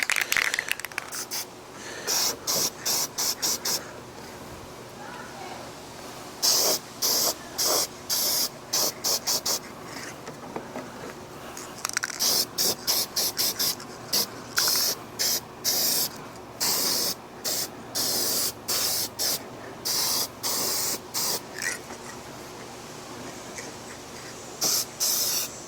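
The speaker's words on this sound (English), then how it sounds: "I'm gonna go ahead and give this a nice good spray" Aerosol spray paint hissing onto a Lexan RC car body during a second coat, a series of short and longer bursts separated by quiet pauses, close and fairly loud.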